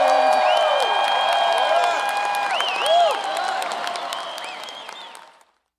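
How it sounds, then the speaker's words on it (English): Large audience applauding with some cheering and whoops at a spring college of engineering graduation ceremony, dense sustained clapping that slowly fades and ends in silence. "Let's give another round of applause to our soloist, Kian Begzadev."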